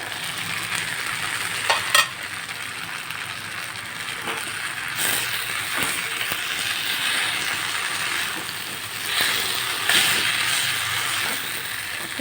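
Garlic and gongura buds fry in a pan with a constant light sizzle, broken by scraping stirs and occasional sharp clinks of the spoon against the pan, close up and without talk.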